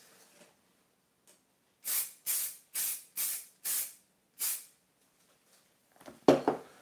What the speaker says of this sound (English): Okay, let's spray fix.